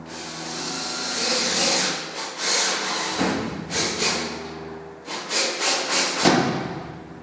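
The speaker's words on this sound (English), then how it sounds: "I'm just going to use a trusty cordless and bugle head screw here." A cordless drill drives a bugle head screw while a lathe digital readout is being mounted. The motor whirs loudly in repeated bursts and surges, rising and pausing several times as the screw bites in.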